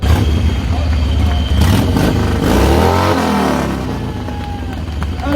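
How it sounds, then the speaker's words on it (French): A loud, close Chevrolet chopper engine revs and rumbles continuously at a Courchevel bike event, rising and falling in pitch, with a crowd or voices faintly underneath. "C'est un chopper Chevrolet qui vient d'Allemagne."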